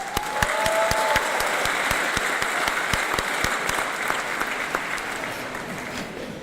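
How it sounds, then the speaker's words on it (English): Graduation audience in a concert hall applauds in a full, sustained round, with a few sharp individual claps standing out near the front and faint crowd noise beneath. "How about a round of applause for that?"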